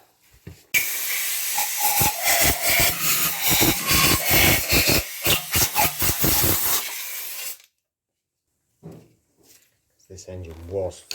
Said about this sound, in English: I'm just brake cleaning straight down the pipe